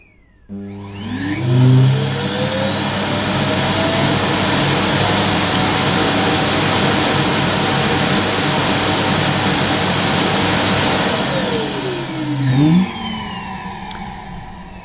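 A robot vacuum's dock empties its dust bin: a loud, steady mechanical whirring roar starts abruptly, holds for about ten seconds with a rising whine, then winds down and stops.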